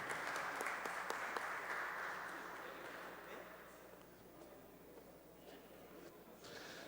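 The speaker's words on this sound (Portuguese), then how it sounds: "ator Tunico Pereira, a quem eu peço uma salva de palmas" A round of applause in a council plenary session, fairly faint and distant, with the dense clapping gradually thinning and fading toward the end.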